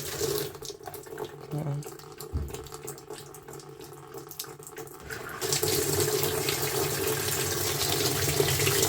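An Amana NTW4519JW2 top-load washing machine fills through its hot and cold water valves: a quiet, faintly rumbling opening gives way after about five seconds to a steady, loud rush of water that continues to the end.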